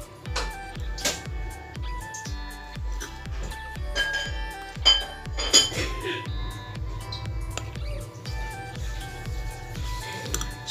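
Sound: mixing cake icing colour in a bowl

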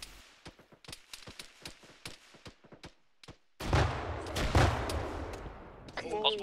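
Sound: frag grenade exploding in the video game ArmA 3

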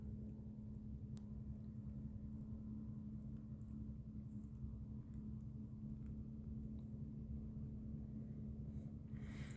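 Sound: motorboat and ship engines on the Ob river

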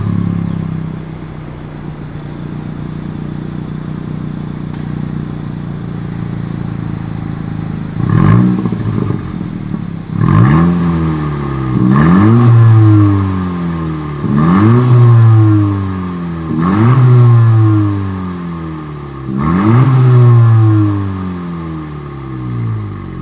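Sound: 2020 Honda Civic Si exhaust revving

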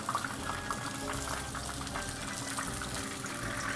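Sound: sea bass frying in bubbling oil

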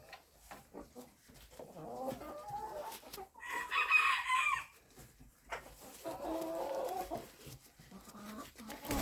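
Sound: chickens clucking and rooster crowing

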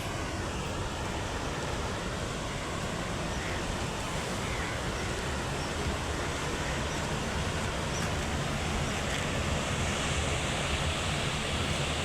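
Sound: water rushing through open dam gates

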